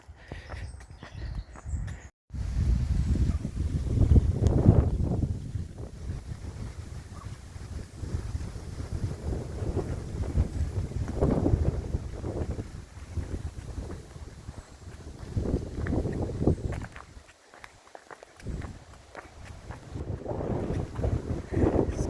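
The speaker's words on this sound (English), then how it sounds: "It's getting windier" Strong wind blowing on an exposed mountain hiking trail in Mallorca between Andratx and Sant Elm, buffeting the microphone with loud, continuous low roaring gusts that surge and ease, briefly dropping out twice.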